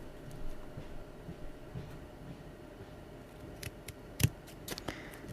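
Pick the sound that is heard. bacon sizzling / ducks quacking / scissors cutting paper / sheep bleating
scissors cutting paper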